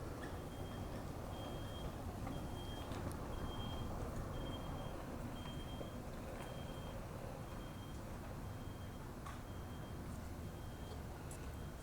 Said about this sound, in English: they all drive these golf carts that beep all the time